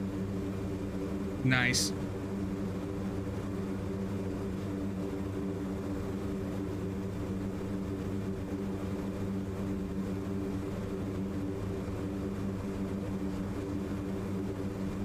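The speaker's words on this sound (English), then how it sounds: "Try to increase the speed level and then decrease it using reverse thrust." A C-130J Super Hercules turboprop holds a steady, loud propeller and engine drone throughout, with an even tonal hum and no clear rise or fall; a brief spoken word cuts in early on.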